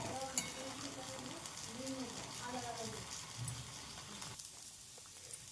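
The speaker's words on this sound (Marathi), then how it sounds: "मस्तपैकी खळखळ उकळी लागली" Curry of hyacinth bean pods, cooked the traditional way, boils vigorously in a pot with a steady bubbling hiss, joined by a faint voice-like tone in the background.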